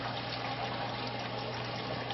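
Water trickles steadily through a Bradley Navigator thermostatic mixing valve as the flow is cut almost to nothing, a continuous soft wash with no voices.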